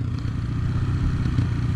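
A motocross motorcycle engine runs with a rough, steady mid-pitched drone and some clattery rattle, close and continuous throughout.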